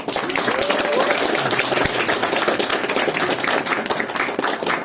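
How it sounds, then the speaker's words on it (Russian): Dense applause fills the hall at an award presentation during an international art exhibition, a steady wash of clapping with a few louder individual claps. "Такие аплодисменты, настолько она пользуется такая популярность среди вас"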